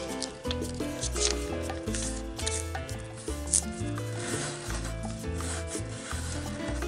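Paper being creased and folded for origami, with soft rubbing and scraping strokes and small crinkles coming close and quiet in an uneven rhythm, and no voice.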